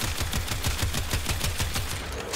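Rapid, loud bursts of Astilla Prime shotgun fire in a video game, a steady run of closely spaced blasts repeating for over two seconds with no pauses.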